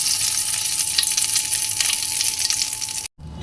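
Dried red chilies and a bay leaf sizzle and crackle steadily in hot oil in a Bengali kitchen, loud and close, cutting off abruptly near the end.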